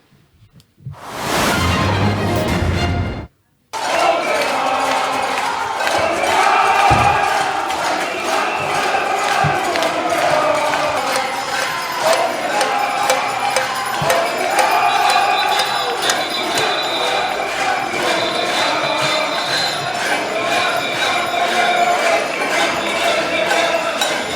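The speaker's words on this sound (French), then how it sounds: "cueilli sèchement à sa descente du TGV par des manifestants très énervés" Angry protesters at Gare de Lyon shout and jeer at a minister stepping off a TGV: a loud, dense crowd roar with rhythmic chanting, clanks and thuds that runs on without a break after a brief rising whine.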